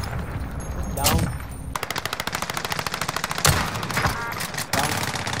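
Gunfire from a PlayStation 4 shooter game: a loud, rapid automatic burst rattles for several seconds, set off by sharper single cracks and heavier blasts before and after, with faint voices underneath.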